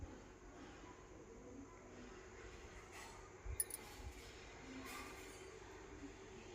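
A flock of pigeons gathers and coos softly at a distance, a low steady murmur with a few brief flutters and bumps midway, with no talking over it.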